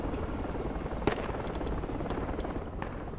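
Helicopter in the military shooter Project Reality, its rotor thumping steadily and loudly throughout, with a few sharp cracks and clicks of gunfire layered over it; no talk.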